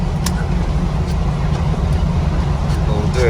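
A Mahindra Roxor turbo diesel cruises along a road toward a freeway, giving a steady, close, low rumble of engine and road noise that fills the cabin without pause.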